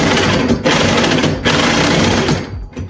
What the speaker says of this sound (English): you take your little sawzall here. Ours is a wired sawzall